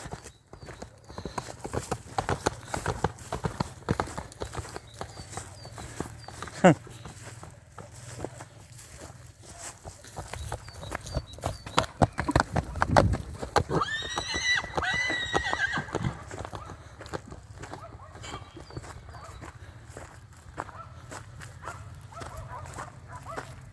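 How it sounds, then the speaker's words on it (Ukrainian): Hooves clop steadily on the ground amid outdoor noise as horses walk, and a horse whinnies once partway through; a dog barks faintly in the distance. "Там ще їдуть якісь коні."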